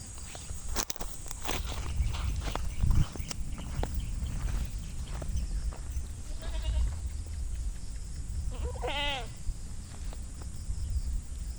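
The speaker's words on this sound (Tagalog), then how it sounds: "So yung mga kambing naman ang iuulan natin." A single goat bleats briefly near the end, a wavering cry over shuffling footsteps and low outdoor rumble.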